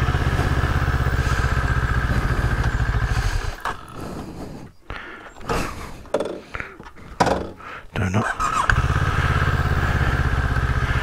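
A Moto Morini Seiemmezzo STR motorcycle is ridden on the road, its engine droning steadily and close, then dipping into uneven thumps and clatter before the drone returns.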